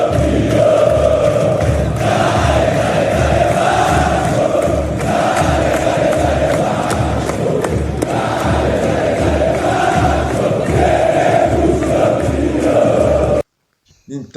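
Vasco fans packing a training session, a crowd of over 10,000, chant in unison with a steady, loud, rhythmic roar that rises and falls in regular pulses before cutting off abruptly.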